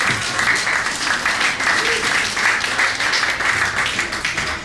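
Loud, sustained audience applause at a comedy mind-reading and mentalism show, for the stage volunteers: thick, even clapping from a full room, close and continuous for nearly five seconds, with faint voices beneath.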